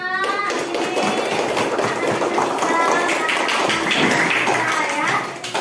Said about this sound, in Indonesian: Oke, terakhir kita tepuk tangan untuk kita semua